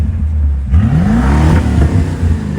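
Close engine of a Dodge Challenger Scat Pack with 100,000 miles idles, then revs up sharply with a climbing pitch and eases back into a rough, steady rumble.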